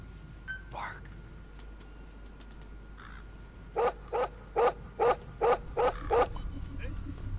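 A dog barks in a run of seven quick, evenly spaced woofs inside Metal Gear Solid V: The Phantom Pain. An earlier yip and a whimper sound over a low game ambience.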